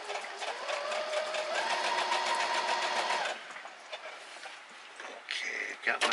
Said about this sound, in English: So I'm sitting here sewing